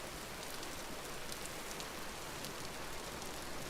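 Steady, dense rain patters without pause in the survival game Vintage Story, an even hiss filling the whole span with no voices.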